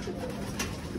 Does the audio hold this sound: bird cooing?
yes